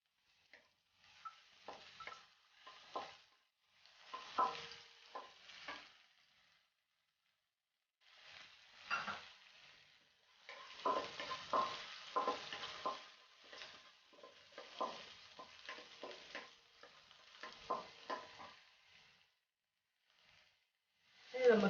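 Chopped green chillies dropped into hot oil for veg momos, a faint, intermittent sizzle with stirring scrapes in short bursts separated by quiet pauses.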